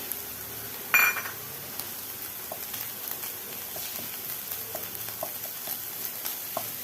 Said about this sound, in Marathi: ह्यामध्येच थोडेसे आपण ड्रायफ्रूट्स परतून घेऊया.